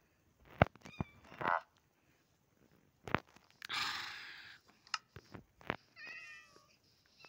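Cats meowing in a Minecraft village, several short, high mewing calls spaced irregularly with brief breathy sounds between, fairly close and alone with no talk.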